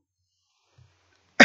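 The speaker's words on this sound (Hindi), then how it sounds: "सॉरी थोड़ा खांसी हो गई" A single short cough bursts out at the end of a near-silent moment during a lecture, preceded by a faint throat sound.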